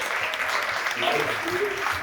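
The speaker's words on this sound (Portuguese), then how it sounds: "Vai uma linda salva de palmas pro Senhor Jesus Cristo pela vida dele." Applause from a church congregation during a Sunday celebration service, steady clapping throughout with some voices talking over it.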